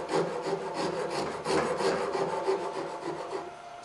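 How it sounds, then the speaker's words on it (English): A rasp rubs and files across carved wood in quick repeated strokes, close and fairly loud, with no talking. "I'll take a rasp now. I'll just fair that a little bit more."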